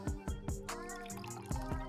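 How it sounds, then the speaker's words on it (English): Cold ice water poured into a styrofoam cup, giving a quiet run of splashing, dripping liquid with several sharp plinks and knocks, likely ice cubes dropping in. "we're going to take cold water. This has ice in it, and we're going to put it into 3 different types of cups."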